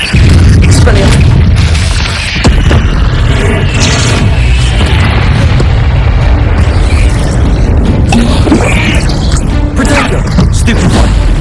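Spell effects from Hogwarts Legacy, including Expelliarmus, burst out in a loud, dense run of booms, crashes and impacts amid battle noise and music, continuous throughout.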